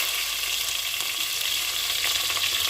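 Onions and green chillies fry in hot oil for a Telugu brinjal-tomato curry, giving a steady, dense sizzle that holds evenly close up throughout, with no talking.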